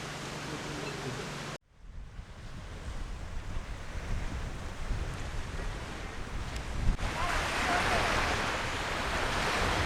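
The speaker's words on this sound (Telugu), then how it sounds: "ఇక్కడ బీచ్ దగ్గర కూర్చున్నాను." Ocean surf washes ashore at a beach on Havelock Island in the Andamans, a steady hiss and rumble of waves with wind buffeting the microphone and a swell building louder toward the end.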